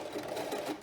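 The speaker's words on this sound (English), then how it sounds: "I'll do a reverse stitch." A sewing machine stitches a fleece scarf in a brief, steady mechanical whir, close and fairly quiet, with no talk.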